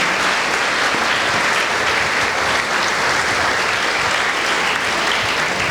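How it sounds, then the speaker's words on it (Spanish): A Sunday school congregation applauds steadily and loudly throughout, a dense wash of clapping with no pause. "quiero que le demos un aplauso a este grupo que terminó Vida Abundante"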